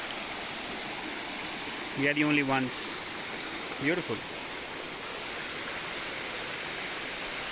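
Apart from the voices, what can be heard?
small waterfall on a forest trail near Manali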